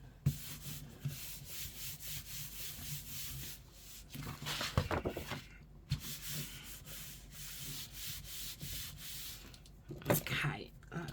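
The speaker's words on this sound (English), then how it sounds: "Just rubbing that to get that glue off." Steady rubbing and sanding-like friction as glue is worked off a handmade journal, a continuous close scraping texture with a few louder bursts, mostly alone with only faint breathy sounds.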